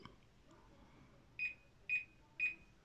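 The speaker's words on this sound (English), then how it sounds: "Till you hear the beep" An Arlec Grid Connect fan emits three short, clear, evenly spaced beeps after its button is held down. The room is otherwise quiet.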